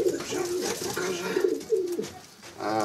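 A racing pigeon hen coos in a loft, a series of low throaty coos repeating in uneven rhythm, close and clear, with a brief pause near the end before cooing resumes.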